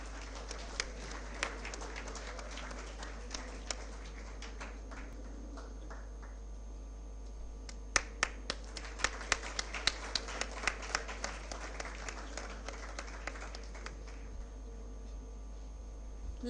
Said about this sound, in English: Let's once again give a huge round of applause for our esteemed panelists.